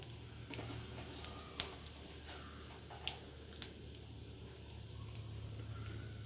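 Fenugreek, urad dal and mustard seeds fry in hot oil for an Andhra-style tomato pulusu pachadi, a soft, steady sizzle broken by scattered sharp pops and ticks.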